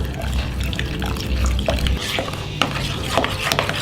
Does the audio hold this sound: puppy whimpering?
no